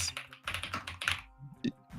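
Close, quiet typing on a computer keyboard, a quick run of key clicks followed by a pause and one or two final taps.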